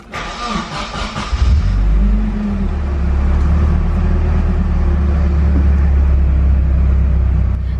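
Nissan 240SX engine cranking and catching, a short chattering start settling quickly into a loud, steady low idle rumble that continues close by.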